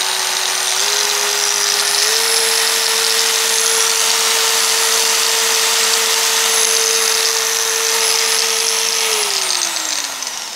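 An electric motor whines loudly and steadily, its pitch stepping up twice early on, holding, then winding down near the end.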